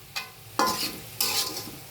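Food frying in oil in a pan, stirred in three separate strokes, each bringing a burst of sizzling and scraping that fades before the next, close up.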